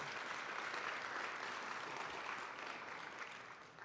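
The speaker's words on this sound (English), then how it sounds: "that deserves a round of applause" Audience applauding at a government State of the Government Address, a broad continuous wash of clapping from a large room, steady and then tapering slightly at the end, heard faintly from a distance.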